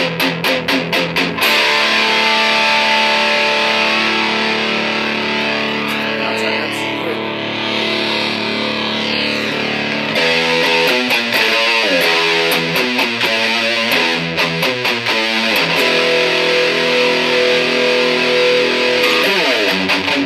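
Crate GX-60 guitar amp with gain at about 6, a heavily overdriven electric guitar playing sustained distorted chords and choppy palm-muted riffs, loud and continuous, with no talking.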